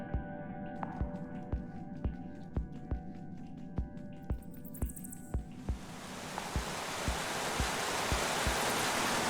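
A waterfall in the video game Minecraft Story Mode, a steady rushing roar that swells louder partway through, with regular soft footstep-like thumps and faint game tones at the start.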